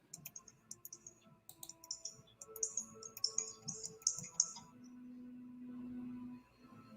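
Computer clicking during an online screen-share session comes as a quick run of sharp, light taps, then gives way to a steady low tone. The sound is close by and faint, and no one speaks over it.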